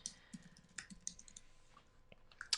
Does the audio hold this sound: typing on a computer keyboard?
yes